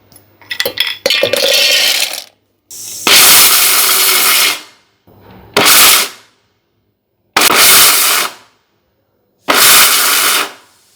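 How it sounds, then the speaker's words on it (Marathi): Mixer grinder pulsing cashews into a coarse powder, running in four or five separate loud bursts of a few seconds each with silent gaps between, after some clattering of the jar at the start. "काजूचे कूट करताना मिक्सर कंटिन्यू चालू ठेवायचं नाहीये, तर त्याला असं चालू बंद करत काजूचं कूट तयार करून घ्यायचंय"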